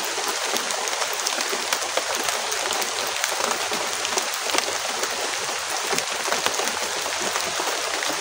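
Steady rain falls outdoors in the late afternoon, a dense, even hiss of drops hitting surfaces that continues without pause and with no voices.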